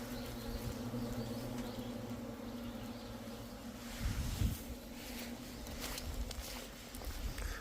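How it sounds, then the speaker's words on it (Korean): Black hornets and native honeybees buzz continuously around an apiary, a faint droning hum with a few brief louder passes and occasional rustling or footsteps nearby. "이 흑말벌하고 토종벌하고 완전히 잔치를 벌이고 있어요"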